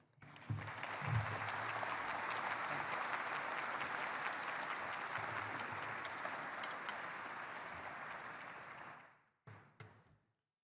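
A conference audience gives General Horner sustained applause as he comes on stage, a dense, loud clapping that holds steady for about nine seconds and then quickly dies away to a few last claps.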